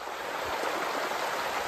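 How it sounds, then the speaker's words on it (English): Heavy rainwater pours through an overflowing drain in a field, making a steady, dense rushing roar that is continuous and close, with no voices. "The amount of water coming down through here. And the drain just can't even cope."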